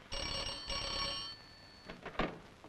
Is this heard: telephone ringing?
yes